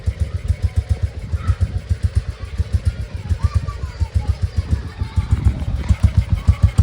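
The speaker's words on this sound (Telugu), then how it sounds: "సో సార్ బైక్ సౌండ్ ఉంది," A Royal Enfield Bullet 350 fitted with a new-model engine idles close by, with a steady deep single-cylinder thump repeating through the whole stretch and a slight rise in revs near the end.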